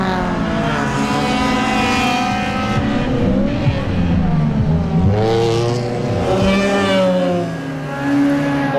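Sri Lankan 1600cc race cars at the Cavalry Supercross meet: loud, continuous engine roar with pitch sweeping up and down as the cars rev and brake into a bend, close and sustained, with possible tyre squeal.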